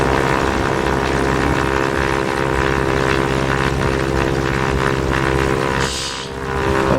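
A light propeller airplane's piston engine drones steadily and loud at close range, a constant low hum with a harmonic buzz, briefly dipping before rising again as the aircraft waits to take off with flaps set to 10 degrees.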